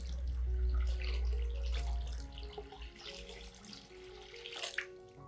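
Water pours steadily into a container to dilute an onion-based liquid fertilizer for anthurium plants, a continuous close splashing and filling sound that tapers off toward the end, with no talking.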